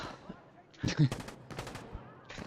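9mm gunfire in a video game, a burst of fast loud shots breaking out mid-clip and then coming in short clusters, with talk mixed in.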